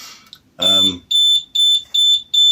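A DataTool vehicle alarm arms itself with a series of four loud, sharp electronic beeps in a steady rhythm, preceded by a brief burst of speech.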